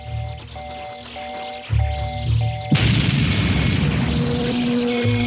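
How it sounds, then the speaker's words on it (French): A cartoon cannon fires with a loud, sudden boom over a tonal, humming background, followed by a sustained roaring rumble that fills the rest of the clip. "Commandant Kane, il faut essayer le canon"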